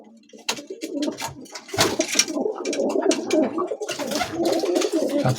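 White double-crested pigeons coo steadily and fairly close, layered throaty calls overlapping in a busy flock with barely any pause.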